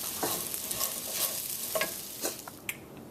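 Okra cooking in a curry base over medium heat, a soft steady sizzle and frying hiss with occasional stirring scrapes and clinks close by, no voices.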